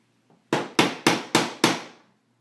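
A child hammers toy train tracks with a toy hammer, five sharp, evenly spaced knocks in a steady rhythm, close and clear with nothing else playing under them.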